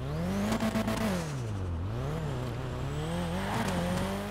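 An Annis Elegy Retro, a Skyline GT-R styled all-wheel-drive car in GTA Online, revs loudly and continuously with its engine note climbing, dipping and rising again, along with some tire squeal. No one speaks.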